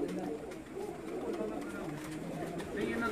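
A breeder pigeon kept on a home rooftop coos in soft, repeated low calls, fairly faint, under a steady background hum with nearby voices talking.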